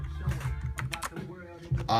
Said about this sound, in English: with that going and me typing away